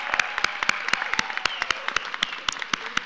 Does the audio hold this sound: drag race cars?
no